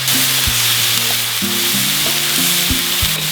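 Chopped garlic sizzling in a hot frying pan while cooking a breakfast burrito, a loud, steady crackling hiss with faint musical tones playing underneath.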